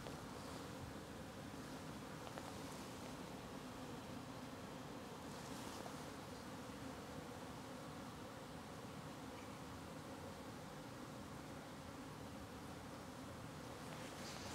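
Golden Buckfast honey bees buzz in a continuous, even drone at low volume with no talking, a soft swarm hum that rises slightly now and then.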